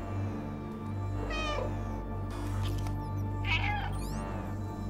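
A cat in the video game Stray meows twice in short, plaintive calls over a constant low hum of game ambience.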